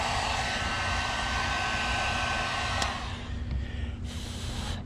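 A handheld heat gun used to melt solder while installing rock lights blows a steady, loud broadband rush of hot air for about three seconds, then the airflow drops and the roar softens for the rest of the moment.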